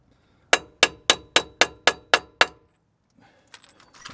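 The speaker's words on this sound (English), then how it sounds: "Le hammer." A hammer bangs eight times at an even, quick rhythm on seized, heavily greased brake caliper parts of a Renault Megane RS. The sharp metallic strikes ring loud and close, then stop, leaving quieter handling noises.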